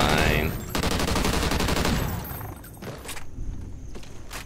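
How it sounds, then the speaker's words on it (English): Sentry gun turret in Call of Duty Ghosts Extinction mode firing a loud, dense stream of rapid shots, sustained gunfire that fades slightly toward the end amid game noise. "Our turret is killing it."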